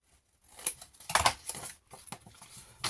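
Scissors snip through paper to trim the corners of a folded scrapbook pocket, a few quick close crisp cuts with rustling between.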